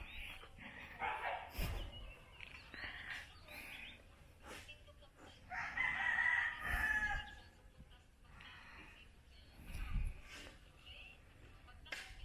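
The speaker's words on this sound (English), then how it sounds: "You can hear my dogs barking" Dogs bark repeatedly at a Philippine eco park construction site, in bursts scattered over the stretch, with roosters crowing and some distant voices mixed in under the outdoor background.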